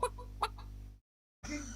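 Chickens in a retro-style homemade video game about rescuing chickens from a fox cluck in short repeated bursts over a low constant hum, then cut to silence before another clucking call starts.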